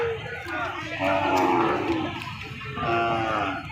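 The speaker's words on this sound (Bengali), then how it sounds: "বিশাল বাছুর দুটো একশো একশো বাছুর" Nepali Gir bull calves about five to seven months old moo loudly and close at a traditional cattle market in Panchbibi, two long drawn-out lows separated by a short pause amid crowd murmur.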